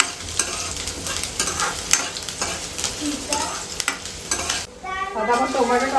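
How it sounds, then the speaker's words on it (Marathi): Onion sizzles steadily as it fries in hot oil for a Konkan-style cashew and egg curry, with a utensil stirring and scraping through it. The frying noise stays loud and close the whole time, and a brief louder sputter comes near the end. "आता आपलं आता तेल गरम झालं याच्यामध्ये मी टाकते कांदा कांदा थोडासा आपण परतून घेऊया"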